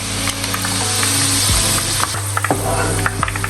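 Garlic and green chillies frying in hot oil, a loud continuous sizzle with occasional sharp spatters and crackles, close by with no talking.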